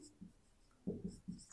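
Pen writing out a geometry solution on complementary angles, a few short scratchy strokes, close and faint, with no talking.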